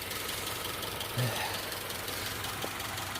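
A 1998 Honda Civic EX engine idles unevenly with a steady, slightly rough drone, heard up close and fairly quiet with no talking.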